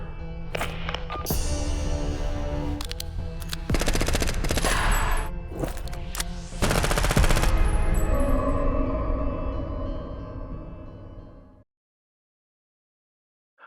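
Bursts of automatic gunfire and rapid shots in the video game SkullX: Aibophobia, loud and dense in several volleys over a noisy scene, then cutting abruptly to silence.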